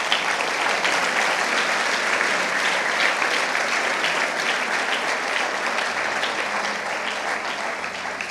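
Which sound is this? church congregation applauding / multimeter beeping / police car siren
church congregation applauding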